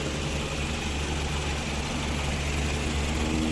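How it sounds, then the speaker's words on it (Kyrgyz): A 2003 Toyota Estima's 2.4-litre engine idles with a steady, even low rumble and broad hiss, a continuous close hum with no voices for the full few seconds. "Мотор четкий оталып турат."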